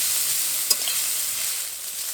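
Chopped banana stem fries in a hot kadai with a steady soft sizzle, and a single stir of the spatula clinks once partway through; no one speaks.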